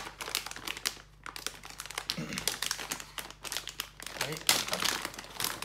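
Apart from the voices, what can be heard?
unwrapping packaging of a Cat 8 network cable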